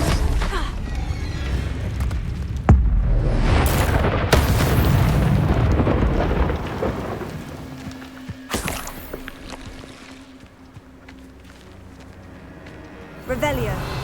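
A Confringo fire spell in a video game bursts into a booming explosion with a rumbling roar that slowly fades, followed by later sharp impacts, with a voice speaking over it.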